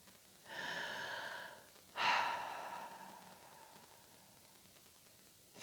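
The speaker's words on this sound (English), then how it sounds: "Taking a deep breath in" A person takes a slow, deep breath in and lets it out in a long sigh. The breathing is close and quiet, with no talking.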